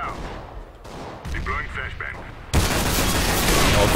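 Grenade blasts in Counter-Strike: Global Offensive: after a stretch of gameplay ambience with a voice, a sudden loud explosion breaks in and leaves a sustained, roaring wash of noise.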